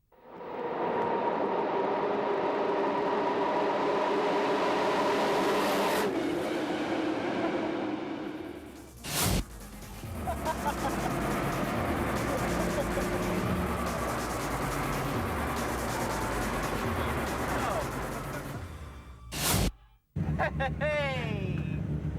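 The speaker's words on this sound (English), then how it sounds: "The engine pitch, the noise." A high-speed tuned Japanese car blasts past with a loud, rising engine roar that sweeps down in pitch, followed by sharp bursts and further engine sweeps, with people talking at points.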